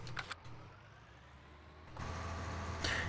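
Case IH Maxxum tractor engine in Farming Simulator 19, a steady low diesel drone that swells louder and fuller partway through, with no talking.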